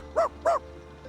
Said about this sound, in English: They're all just ordinary chihuahuas.